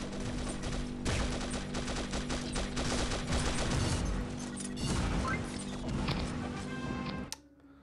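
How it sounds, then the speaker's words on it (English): Rapid weapon fire in the Pixel Gun 3D shooter crackles in dense, overlapping bursts for several seconds, loud and busy, then cuts off abruptly near the end. "Let me shoot. Oh, I missed every shot then."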